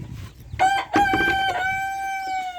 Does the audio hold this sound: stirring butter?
no